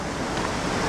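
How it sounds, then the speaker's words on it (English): Fast-flowing river current rushing steadily, a dense broadband wash of water that stays loud and unbroken throughout. "this water is definitely ripping a good more than I anticipated"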